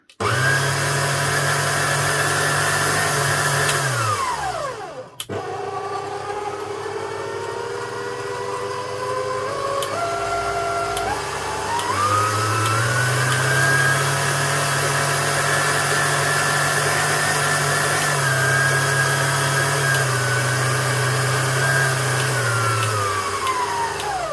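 A Morphy Richards food mixer motor running steadily after a brush replacement, a loud continuous whine that winds down briefly, then picks up and shifts speed before settling into a sustained hum.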